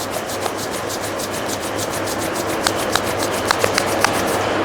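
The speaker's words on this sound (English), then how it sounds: "Join your both palm, rub your palm." Two palms rub together briskly during a yoga class, making a steady, close, dry swishing friction with a regular back-and-forth rhythm and a few faint clicks, with no voice.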